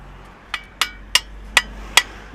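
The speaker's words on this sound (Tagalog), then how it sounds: "Martilyo, pagpukin mo muna dito." A hammer strikes a bent suspension arm on a Mitsubishi Mirage in a repair shop, five sharp metallic blows spaced evenly and close, each ringing briefly before the next.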